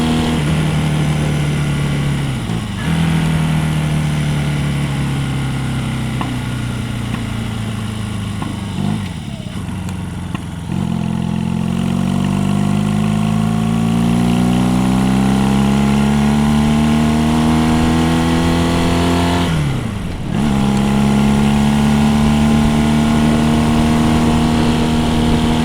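A 50-year-old motorcycle being ridden, its engine note climbing steadily through each gear and dipping briefly at every shift, close and continuous with some wind.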